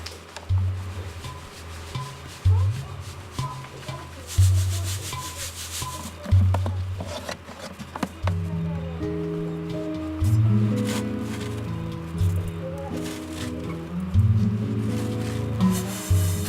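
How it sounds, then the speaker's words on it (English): Carrot seeds and chaff being shaken and rubbed through a sieve, a close, steady scratchy rasping in repeated strokes that continue without pause, with low tonal sounds running underneath. "you should first use a sieve that retains the chaff."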